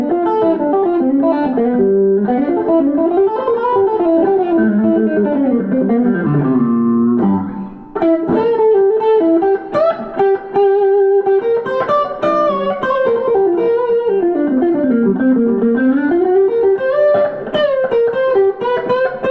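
A '90s Gibson Les Paul Standard electric guitar with both pickups on plays a flowing melodic line of sustained, slightly overdriven notes. A brief pause comes partway through, then the playing resumes in bends and runs, loud and close with no voices.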